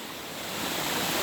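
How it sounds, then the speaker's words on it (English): Waterfall at Undir Bandoda spilling into a man-made canal, a dense, even hiss of rushing water that swells slightly over a brief moment, with no voices. "you can see the beautiful waterfall and the water flowing through this canal"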